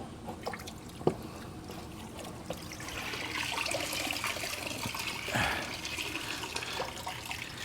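Water runs and trickles in a sink while grimy items are cleaned, a quiet, uneven splashing with a few small clunks and a louder gush near the end.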